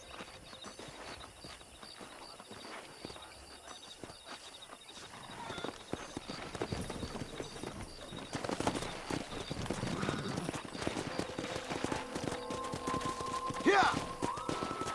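Horses gallop in the Red Dead Redemption video game, heard as rapid, rhythmic hoofbeats that build from faint to louder, with rustling movement, a whinny-like cry near the end and voices talking.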